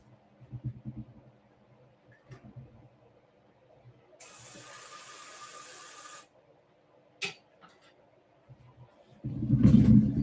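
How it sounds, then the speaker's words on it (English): A spray bottle mists a Tomasaurus vulgaris cockroach colony: one steady two-second hiss rises from a quiet room with soft rustling and low rumble, and heavier thumping noise follows near the end. "I'm going to spray them and get them worked up."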